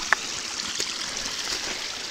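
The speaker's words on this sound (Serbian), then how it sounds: "Žubor vode" Mountain stream in a forest cut babbling over stones, a continuous close hiss of flowing water with small splashes and trickles.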